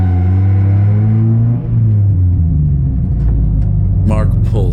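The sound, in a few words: race car pulling into pit lane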